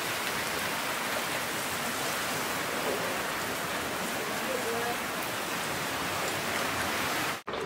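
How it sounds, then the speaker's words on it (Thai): Steady rain pours down at a beachfront resort, a dense even hiss of drops that runs unbroken for several seconds before cutting off abruptly, with no voices over it. "ระหว่างนี้นะคะฝนตกจะออกไปไหนไม่ได้นะคะ"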